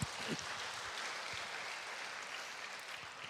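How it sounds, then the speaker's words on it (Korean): A church congregation applauds in a steady, dense wash of clapping that holds evenly throughout, heard from within the room without any voices. "감사의 박수를 하나님께 올리겠습니다."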